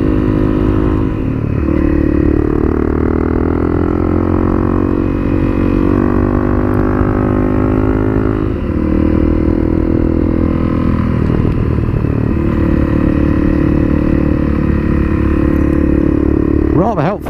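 Honda CRF250L motorcycle ridden along a winding, cambered road at the Dukes Pass near Loch Katrine, a loud steady engine drone that rises and falls with the throttle, with a voice talking over it.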